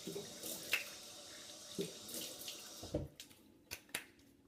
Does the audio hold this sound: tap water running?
yes